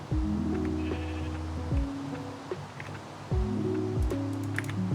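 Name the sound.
sheep bleating in a video game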